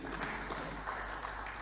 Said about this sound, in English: So let's clap for the police, please.